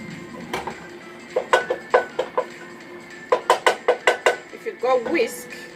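A whisk clinks rapidly against a pot while flour is stirred into a sauce for creamy cheese pasta, the metallic taps coming in quick bursts separated by short pauses.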